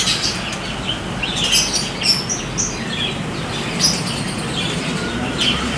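A three-month-old male murai trotol songbird from a Medan breeder sings in a shop, giving bright, repeated chirps and whistled phrases over steady background hiss with no talking.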